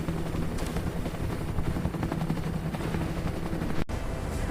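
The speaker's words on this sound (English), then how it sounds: "The helicopter turned back, heading toward the rescue base" A rescue helicopter flies over mountains during a rescue mission, its steady rotor drone and engine roar filling the scene continuously at a constant loudness, with no voices.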